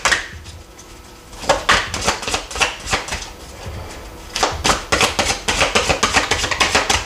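Sacré-Cœur oracle cards being cut and shuffled by hand, a run of crisp papery slaps and riffles in close bursts with brief pauses between, no voices.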